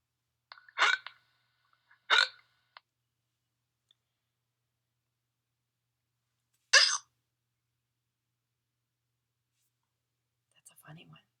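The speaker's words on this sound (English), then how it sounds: "I wanted to have you listen to a couple of hiccups I heard online" Hiccups played back from recordings found online, three or four short sharp bursts spaced a few seconds apart with silence between, then a faint final sound.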